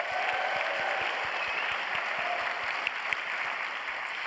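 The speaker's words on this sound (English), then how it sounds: "so give them a round of applause as well" Awards-show audience at the D.I.C.E. Awards gives sustained applause for the trophy presenters, a broad, steady roar of clapping with a faint regular low thump running beneath it.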